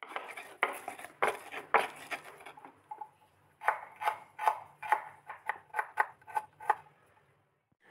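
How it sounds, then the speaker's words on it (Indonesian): Garlic, chili and a little shrimp paste are ground by hand into a spice paste, heard as quiet rhythmic scraping and pounding strokes: a loose cluster first, then an even run of about a dozen beats. "ini untuk bawang putih cabe terus aku kasih terasi dikit ini aku halusin ya"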